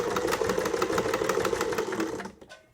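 A sewing machine stitches fabric for simple rice-bag heat pads, running forward and then briefly backward in a steady rapid whir, close and fairly quiet, before it stops near the end.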